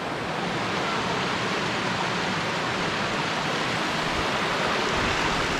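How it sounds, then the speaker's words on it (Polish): An underground river rushes through a misty cave entrance, a steady, dense wash of flowing water that stays even and unbroken throughout, with no voices. "Mamy rzekę płynącą przez jaskinię."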